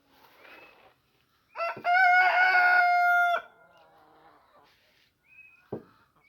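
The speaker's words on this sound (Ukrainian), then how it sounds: "Кури ось знову біля мене." A rooster crows loudly and close by, a long drawn-out call, with softer clucks and chicken noises before and after.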